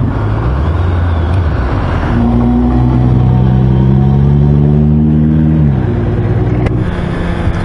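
A Honda CB650R motorcycle on the road, with a loud, continuous engine drone whose pitch rises and falls as the rider works through the revs, heard close with wind noise.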